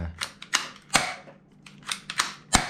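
A P320 M17 gel blaster pistol fires a series of sharp snapping shots, about seven quick cracks in an uneven rhythm, close and fairly loud with nothing else heard.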